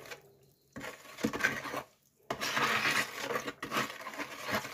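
Enamel glaze is stirred gently in a container, giving soft scraping and sloshing strokes in bursts separated by short pauses, fairly quiet and close.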